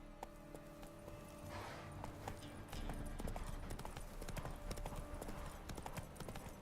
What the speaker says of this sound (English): To me, Roach. Giddy up